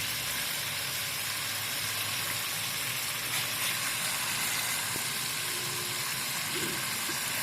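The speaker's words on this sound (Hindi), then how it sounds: "अब मैं ऐड कर रही है गोभी, बंद गोभी।" Shredded cabbage sizzling in a hot pan: a continuous dense hiss of frying, even and moderately loud, with faint stirring touches and no talk.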